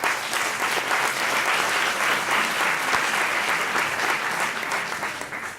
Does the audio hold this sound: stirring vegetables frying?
no